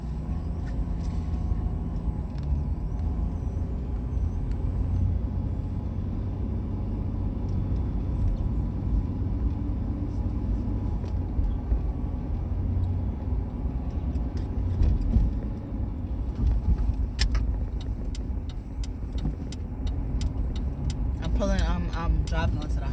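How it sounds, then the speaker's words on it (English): A car driving onto the highway, a steady low engine and road rumble running throughout, with a person talking over it and faint rattles near the end. "I'm driving onto the highway, guys"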